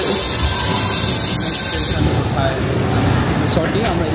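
A Paris metro train pulls into Palais Royal–Musée du Louvre station with a loud, steady roar of rushing air and rumble that shifts partway through, with voices faintly in the background.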